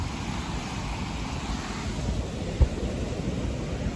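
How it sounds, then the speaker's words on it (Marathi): A flowing stream near waterfalls in a monsoon village, giving a steady, broad rushing wash of water that stays even and close throughout, with one brief thump partway through. "हा इथून तिकडे वाहतोय झरा"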